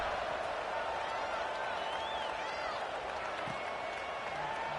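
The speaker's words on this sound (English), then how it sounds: "this crowd is feeling themselves after that last drive" In an NCAA football video game, a stadium crowd keeps up a steady, dense roar of cheering and clapping at a kickoff, loud and continuous from start to finish.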